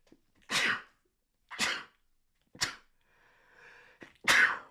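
Four sharp sneezes with pauses between them, close and loud, with a faint breathy sound before the last one.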